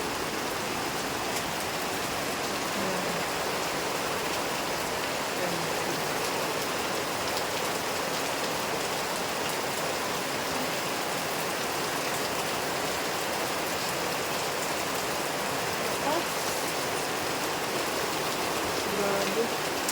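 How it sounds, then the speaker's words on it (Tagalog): Heavy rain pours steadily on an island, a dense continuous hiss of drops hitting surfaces that stays loud and even throughout, with no voices. "Medyo ang lakas ng ulan."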